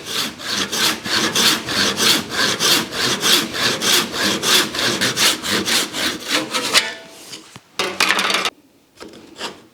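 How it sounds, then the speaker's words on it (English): Hand saw cutting through wood while shaping a tapered reamer for Windsor chair making: steady, rhythmic back-and-forth rasping strokes, close and loud, for about seven seconds, then a few scattered strokes and pauses. "That should keep this saw in line for me the rest of the way down."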